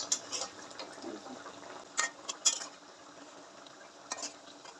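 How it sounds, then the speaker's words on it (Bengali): A lid is lifted and hilsa fish is turned in a cooking pan, giving soft scraping and a few sharp metallic clinks of utensil on pan over a quiet background sizzle, with no voices. "এই পর্যায়ে ঢাকনাটা উঠিয়ে একটু উল্টিয়ে দেবো"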